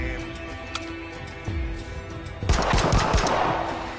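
Gunfire in the shooter game Narcos: Rise of the Cartels, a steady background of shots that turns into a loud, dense burst of rapid automatic fire about halfway through.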